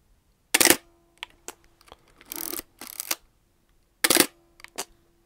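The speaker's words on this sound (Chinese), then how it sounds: "这个宾得67的这个快门声音是最好听的快门声音，" A Pentax 6x7 medium format film camera fires its shutter in crisp, sharp clacks: two main loud releases with mirror slap, spaced a few seconds apart, plus smaller mechanical clicks and winding sounds, close up with no talk.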